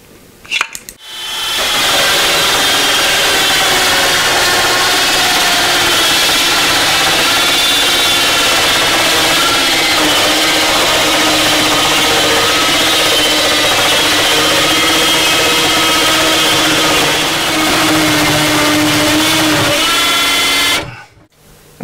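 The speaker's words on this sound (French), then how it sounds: "puis on va scier le long de la ligne" Power saw ripping wood along a guide rail while building a shelf and drawers: a loud, steady, close whine spinning up, holding for about twenty seconds through the cut, then winding down.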